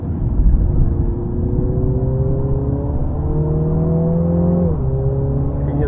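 A Mini's engine revs steadily on the Zolder race track, a loud close drone from inside the car whose pitch climbs slowly, then drops abruptly near the end as the driver shifts gear.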